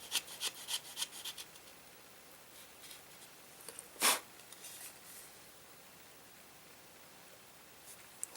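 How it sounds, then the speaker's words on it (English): A knife blade shaves thin curls off a dry wooden dowel, making a feather stick. Quick, soft rasping strokes come close up, then a single louder scrape, then long quiet stretches with faint scratches. "I've got the makings of a fire stick right there, a feather stick right there."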